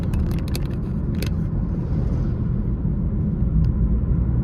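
A two-car LIRR train, number 6656, rumbles at a moderate distance with a steady low roar, broken by brief clicks early on, and no one speaks.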